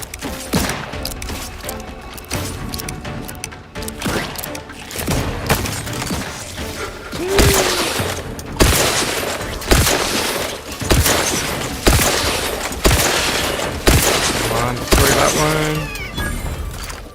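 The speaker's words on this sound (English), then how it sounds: "I think electric bullets bounce from one enemy to the other" Electric bullets fire in The Outer Worlds, with loud rhythmic bursts of shots and crackling impacts repeating roughly every second or two over constant game noise, with brief talk mixed in.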